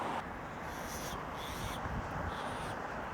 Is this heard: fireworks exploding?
no